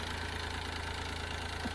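A tractor engine idles steadily in a farm field, its low, even rumble faint and continuous, with no one speaking.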